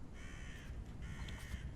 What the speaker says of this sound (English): I recognize a good crow boy when I hear him.